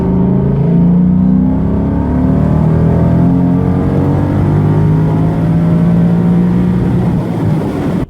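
A Ford car tuned with the Performance Power Pack 2 engine calibration, revving hard and close against its rev limiter, a loud sustained engine roar that wavers and stutters as it bounces off the limit, with no voices.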